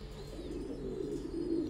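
Thai Titan meat pigeons cooing softly in a breeding loft, low murmuring coos under a steady background hum.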